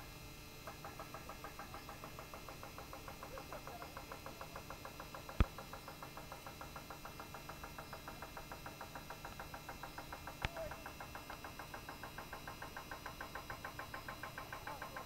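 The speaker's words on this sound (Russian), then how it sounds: "Стук зубила, гидрозубила, слышен сюда" A distant hydraulic chisel at coal pits near Stakhanov sends a faint, steady train of rapid knocks across the whole stretch, with a couple of sharper isolated clicks standing out.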